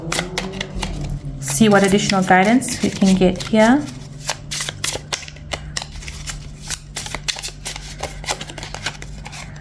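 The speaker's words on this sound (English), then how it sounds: "I'm just going to shuffle some tarot" Tarot cards are shuffled with a run of quick, crisp riffling clicks that continue steadily after a woman's speech at the start, close and fairly loud.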